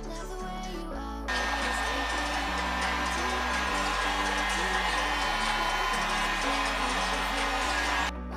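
A torch or heat gun works on a smashed front-end car body panel, giving a steady, loud broadband roar that starts about a second in and holds until the end. A low, stepped hum runs underneath.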